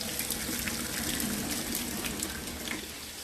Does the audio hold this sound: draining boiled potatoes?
yes